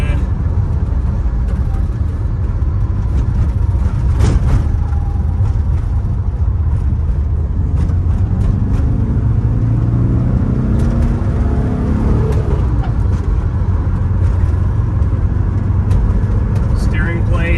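A 1973 VW Westfalia camper van drives along a road, its steady engine drone and road rumble running loud and continuous throughout, with someone talking over it.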